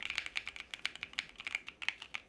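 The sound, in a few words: typing on NuPhy mechanical computer keyboard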